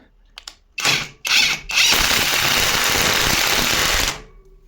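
A Grosser cordless impact wrench works on a rusty bolt, with a few short clicks and two brief bursts before a sustained loud hammering rattle of about two seconds that then stops, close up with no speech.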